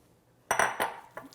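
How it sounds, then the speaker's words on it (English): A utensil scrapes and clinks against a bowl in a few quick bursts as a cauliflower potato salad is mixed with sauce, followed by a softer final tap; no one speaks. "And now we add in our sauce. There you go. And then we will mix it all up."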